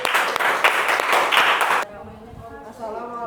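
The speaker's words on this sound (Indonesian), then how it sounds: "Tepuk tangan tim 1" A class of students in a junior high school informatics lesson claps for the first group after its presentation, a brief burst of dense applause that stops abruptly, followed by a voice speaking.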